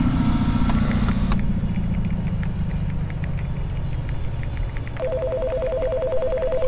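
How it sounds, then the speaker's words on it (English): A telephone rings in a video game, with a pulsing electronic ring that starts partway through over a loud, low engine-like rumble and continues steadily to the end. "Since when did I get a phone?"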